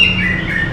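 Local Balinese magpie-robin (murai) giving a loud, close, sustained whistling chirp that wavers slightly in pitch over under a second.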